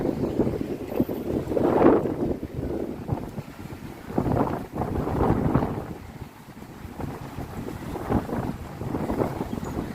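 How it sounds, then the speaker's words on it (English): Steady wind buffeting the microphone on a New York City street near Herald Square, a continuous low rumble that swells and fades in gusts over ten seconds, with no voices. "you could hear the wind. It's a little windy down here."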